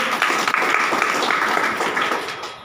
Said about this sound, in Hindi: एक बार ये दोनों अपलाइन के लिए जोरदार ताली होनी चाहिए।